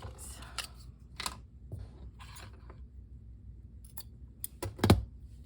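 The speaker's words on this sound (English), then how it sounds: "I need to pull out my fabric scissors for these" Fabric scissors snip through Pokémon card packaging in a few short, crisp cuts, closing with a louder snip near the end, set against quiet handling rustles.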